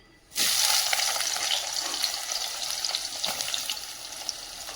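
Mustard seeds and onions frying in hot oil in a pan, a steady close sizzle that bursts in suddenly and holds loud, with faint stirring clinks and no talking.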